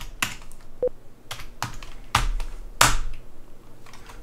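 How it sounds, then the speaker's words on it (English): Several separate loud keystrokes on a computer keyboard, close and crisp, spaced out unevenly over a few seconds as a command is typed, with no talking. "we just type in system control and enable web stream"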